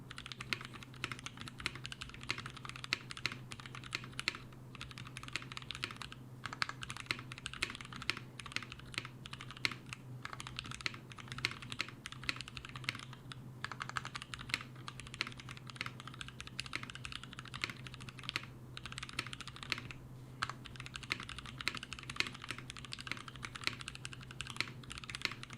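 Typing on a mechanical keyboard whose switches are lubed with laser printer lube, a steady run of close, fairly soft keystrokes with a constant low hum underneath and no talking.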